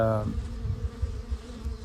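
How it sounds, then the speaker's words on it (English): A brief, close buzz of guard honeybees at a hive hums loudly, then settles into a steady insect drone. "the guard bees especially would buzz me"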